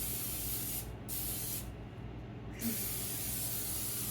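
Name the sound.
cooking spray sprayed on bread pans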